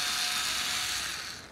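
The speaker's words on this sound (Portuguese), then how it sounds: "Eu vou tirar esses cinco parafusos aqui" A screw on the air filter box of a Yamaha XV 250 Virago motorcycle being undone with a power driver, a steady close whirring buzz that fades out at the end.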